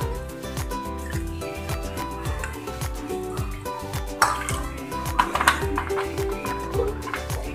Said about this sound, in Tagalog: So, lagyan natin siya ng tubig.